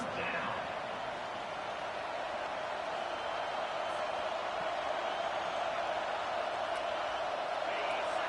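A college football stadium crowd at a Hurricanes vs Michigan game keeps up a loud, steady roar and din of cheering for the full stretch, with no breaks.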